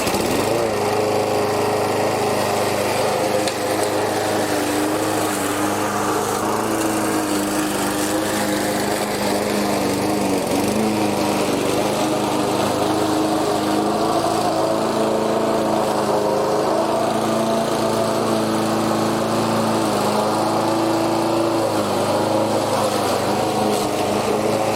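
A restored Sovereign petrol lawn mower runs steadily while cutting grass, its engine drone loud and unbroken throughout, with no voices over it.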